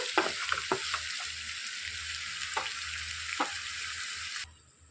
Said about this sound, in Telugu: మంచి రంగు వచ్చే వరకు ఉల్లిపాయలు వేయించేసుకోవాలి